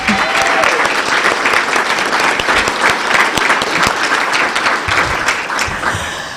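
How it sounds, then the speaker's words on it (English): A performing arts hall audience at an awards event claps for senior presenters, loud sustained applause with crisp individual hand claps close by, holding steady before easing slightly toward the end, with faint voices underneath. "Let's give each of them another round of applause"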